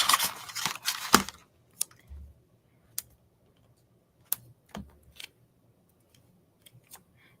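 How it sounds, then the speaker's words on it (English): Scissors snip through craft material in a quiet room, a dense flurry of cuts at first followed by scattered sharp single snips and clicks with pauses between. "That one's still too big, so I'm going to cut that in half again."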